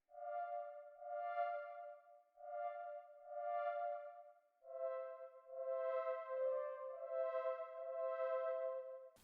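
A soft U-he Repro-5 synth patch with reverb plays mellow, sustained chord tones in smooth swells, quiet and alone, in a dreamy indie-pop style.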